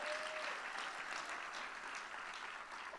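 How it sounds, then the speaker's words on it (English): Applause at a charity benefit for a large donation, a dense, even wash of clapping from a crowd that holds steady and fairly distant. "can we get a round of applause for that big gift to kick us off?"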